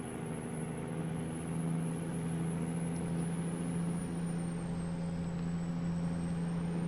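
A heavy truck in American Truck Simulator drives steadily with an automatic transmission, its engine holding a constant low drone with a faint high whine throughout, with no talk.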